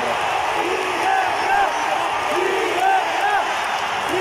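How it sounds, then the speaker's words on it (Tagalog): Barangay Ginebra basketball fans shout and cheer in a packed arena during a Game 7 finals against TNT Tropang Giga, a steady crowd roar with rising whoops, under a commentator's voice. "Sigawan po dito yung fans ng Barangay Ginebra."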